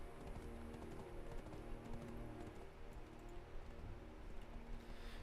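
Horse riding in the online game Black Desert Online, a steady, continuous clatter of hoofbeats running without pause at an even level.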